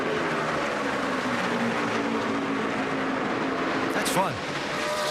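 NASCAR stock cars racing under the lights at the 2011 Irwin Tools Night Race, engines droning steadily with one car sweeping past near the end, under a commentator's voice.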